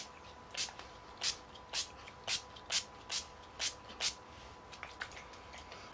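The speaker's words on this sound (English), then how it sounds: "basically what you do is you spray it and you make it like an X" Makeup setting spray misted toward the face in a quick series of about eight short, close, hissing bursts at a steady pace, with no talking.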